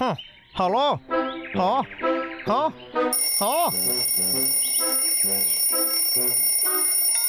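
An alarm clock in an animated cartoon starts a steady, continuous high-pitched ringing that runs to the end, following animated character voices with swooping cartoon sound effects.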